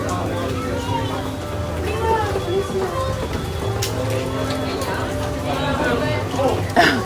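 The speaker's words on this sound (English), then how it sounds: "'Cause it's raining harder now." Rain falls steadily at Magic Kingdom theme park, a constant patter on surfaces beneath nearby voices and the chatter of a crowd.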